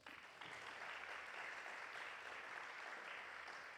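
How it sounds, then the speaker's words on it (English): A conference audience at an innovation finance event gives a round of applause, a steady, distant and faint wash of clapping lasting several seconds with no talking. "Let's offer him a better round of applause."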